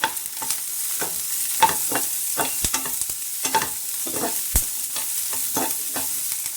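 Garlic cloves and cumin seeds frying in a pan for a green chilli thecha, with a steady sizzle broken by repeated stirring scrapes at close range and no talking.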